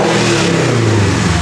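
A 2022 Subaru BRZ with an aftermarket intake and loud exhaust revs hard, its engine note loud and close with rising and falling pitch sweeps and no voices over it.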